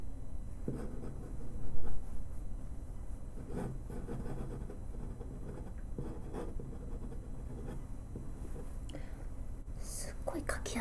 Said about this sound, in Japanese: じゃあまずは Amazon で買った500円の一番安いペンから書いていきたいと思います